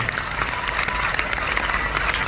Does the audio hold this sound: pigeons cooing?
no